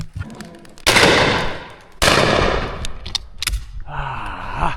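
Two loud, close shotgun blasts fired at moving targets, each with a long rolling echo, followed by smaller clatters and a voice-like sound in the background.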